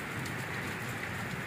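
Heavy rain pouring steadily on a rural road, a dense, even hiss with no pauses, close and fairly loud, no voices.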